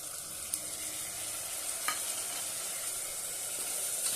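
Peanuts and sprouted moth beans being sautéed in a pan, giving a steady close sizzle throughout with a couple of sharp scrape clicks from stirring and no talk.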